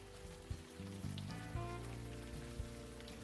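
Rain falls in the video game Unavowed as a soft, steady hiss of drops, with a few low tonal hits underneath, all short and fairly quiet.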